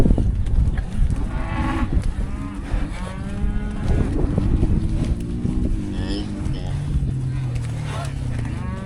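Two dozen heifers in a farm pen on a hot day call out with repeated, overlapping moos, some long and drawn out, over a steady background rumble.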